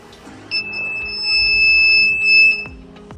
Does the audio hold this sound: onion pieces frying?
no